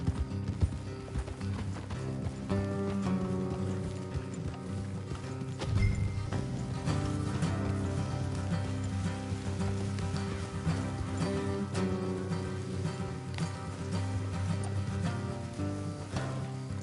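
Horse hooves clip-clop in a steady rhythm in Red Dead Redemption 2, under a dense layer of game music and ambience, continuous throughout.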